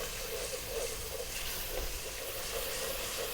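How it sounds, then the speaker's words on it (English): Fresh tomatoes sizzle in a pan while being stirred, a constant close hiss with soft scraping swells and no talking. "Stir vigorously now."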